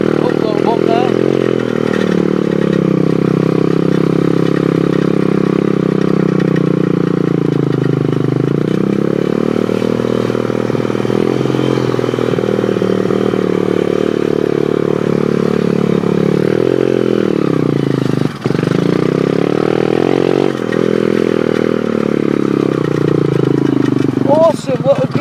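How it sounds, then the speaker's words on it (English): A small pit bike motorcycle engine drones continuously while riding over bumps, steady and loud with slight shifts in pitch and occasional scrapes or clatter. "This pit bike is awesome when it runs."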